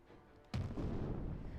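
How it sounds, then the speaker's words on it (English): Distant cannon fire from the game Hakuoki: Edo Blossoms, a single sudden boom that rolls into a sustained low rumble after a brief quiet lead-in. "The sound of cannon fire cracked loudly in the distance"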